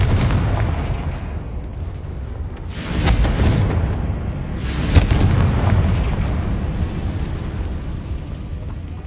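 Confringo explosive spell cast in Hogwarts Legacy, producing loud booming blasts over a constant rumbling roar, with two stronger bursts a couple of seconds apart.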